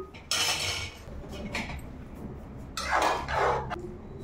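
A lid set down over a pan of okra curry cooking in a home kitchen, giving a few close metallic clanks and scrapes with a louder clatter near the end, no voices.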